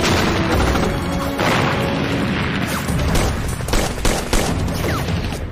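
Dense, sustained gunfire rattles close and loud in an ambush on a vehicle, with overlapping bursts and booms filling the whole stretch.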